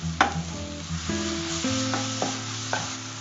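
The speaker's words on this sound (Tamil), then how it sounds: "வதக்கிட்டு ஓரமா தள்ளிடுவோம்." Masala for kothu kari dosa sautéing in a hot pan, a continuous close sizzle punctuated by several sharp scraping clinks of a spatula stirring and pushing it aside, with no talking.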